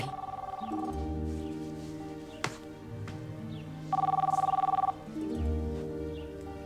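A mobile phone rings in bursts of electronic tones, with a louder warbling section midway, over a busy background of other sounds, no speech.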